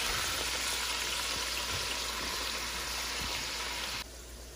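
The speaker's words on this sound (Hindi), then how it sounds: "जब तक प्याज फ्राई होते हैं" Onions frying in hot oil, a loud, steady, close sizzle and crackle that runs without pause, easing slightly near the end.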